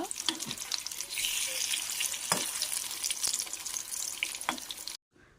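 Fish frying in a pan over a medium flame gives a bright, crackling sizzle with a few scraping clicks, steady and close, then cutting off abruptly into near silence just before the end.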